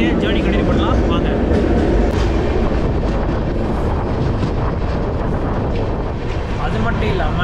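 Heard from on board, the Coimbatore–Chennai Egmore Superfast Express rolls along with a loud, continuous rumbling roar and rattle, and a voice talks over it.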